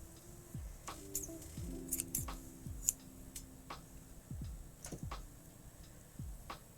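Scissors snip a strand of yarn or thread for mending at a crafting table, giving several short, crisp cuts spread through a quiet indoor room.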